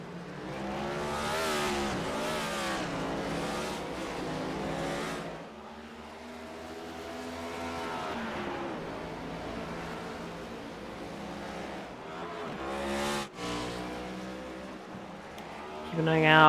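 Race cars circle the Charlotte Motor Speedway road course in an iRacing NASCAR series sim race, engines swelling and fading as cars pass, with revving and shifts, under steady commentary.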